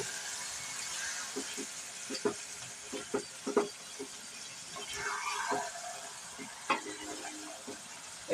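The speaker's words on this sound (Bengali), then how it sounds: "এইভাবে নাড়িয়ে চাড়িয়ে ঢাকা দিয়ে দিয়ে কম আঁচে করবো" Chicken stirred in a pan over a low flame for malai chicken, with soft repeated scraping and tapping of a utensil over a steady quiet sizzle.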